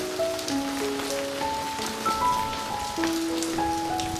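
Steady rain patters on a surface on a rainy day at home, a continuous hiss with faint tonal sounds drifting over it and no talking.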